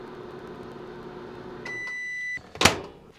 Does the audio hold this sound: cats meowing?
no